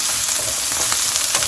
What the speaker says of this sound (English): you want to hear the sizzling, that means that your pan is hot enough